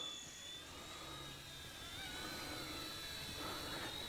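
A small XK WLtoys K127 radio-controlled helicopter flies outdoors in the wind, its rotor giving off a steady high-pitched whine over a constant rush of wind noise.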